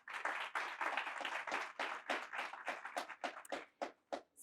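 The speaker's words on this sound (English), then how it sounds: "Can we just have a round of applause for them?" An audience at a conference on forced labor in supply chains gives a round of applause. The clapping is brisk and moderately sized, then thins into scattered claps before it fades.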